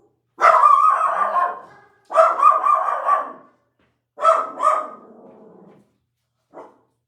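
A dog barks loudly and close by as someone arrives home, in three clustered bursts and then a last short yap.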